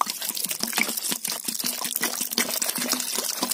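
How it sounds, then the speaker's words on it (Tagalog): Water is poured onto grated coconut to make coconut milk, a close, steady trickle and splash that runs continuously with no talking. "So, lagyan na natin to ng tubig."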